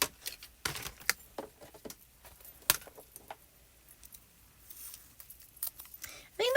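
Scissors snipping through thin foiled paper cardstock sentiments, a series of quick close crisp cuts and rustles of handled paper, with a voice talking intermittently over them.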